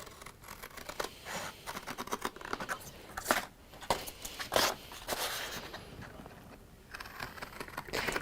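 Scissors snip through fabric at close range in a craft session, a run of short crisp cuts and rustling scratches with brief pauses, fairly quiet and without talk.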